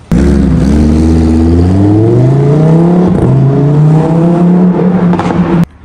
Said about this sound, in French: Là c'est une SLS Brabus en fait, donc c'est un truc de malade.